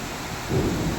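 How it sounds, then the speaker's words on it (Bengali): Thunder rumbles during heavy rain, a brief low roll that swells midway over a constant rain hiss, close and fairly loud, with no voices. "মেঘ ডাকছে, দেখেছো?"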